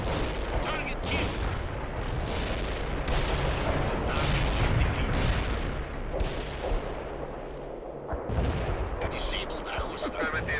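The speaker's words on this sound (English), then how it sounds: "Both up firing mortars." Mortars fire in the World in Conflict video game, a series of sharp booming blasts about one per second, each trailing off in rumble over a steady battlefield din.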